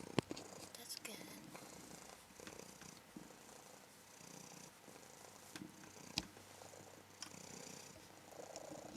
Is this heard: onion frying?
no